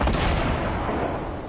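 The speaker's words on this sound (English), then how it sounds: "RPG right at that wall." An RPG is fired at a wall in the video game Fortnite, a loud, close, broadband blast that starts at full strength and slowly decays as a rushing roar.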